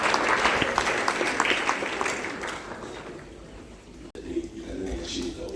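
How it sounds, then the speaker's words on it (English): A school audience at a prefects summit claps steadily in a hall, a loud wash of hand claps that thins out toward the end as low voices come in. "Can we give her a 10 gigabyte hand clap?"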